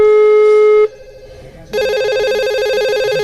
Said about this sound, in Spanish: Qué casualidad, Valerie, el teléfono